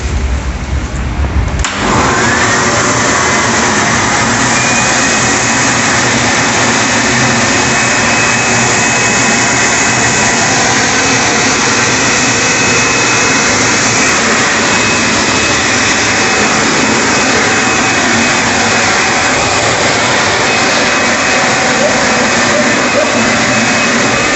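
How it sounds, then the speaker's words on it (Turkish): A Stiga SBL2600 leaf blower in vacuum mode starts with a brief thump and then roars continuously at close range with a loud, steady rushing whine while sucking up leaves into its collection bag. "Gördüğünüz gibi vakum yaptığı zaman alt taraftaki toplama haznesi de şişiyor."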